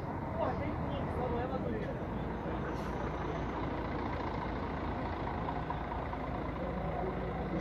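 An Expresso do Sul intercity bus from São Paulo idles and rumbles at Novo Rio bus station, a steady low engine drone under faint station noise, with a voice talking briefly.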